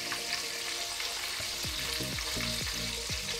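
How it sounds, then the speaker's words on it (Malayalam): Chicken pieces fry in hot oil inside a pressure cooker for broasted chicken, a steady loud sizzle and hiss with a few low clanks as the pieces are turned, and no one talking. "ഓരോ ചിക്കൻ പീസസ് ഇതേ രീതിയിൽ തന്നെ നമുക്ക് പ്രഷർ കുക്കറിൽ ഫ്രൈ ചെയ്തെടുക്കാം"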